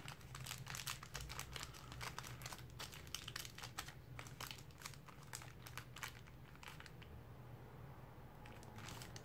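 Sheets of paper creased and pressed while folding an origami dragon, a steady run of close crinkling and crisp tapping clicks with no talk.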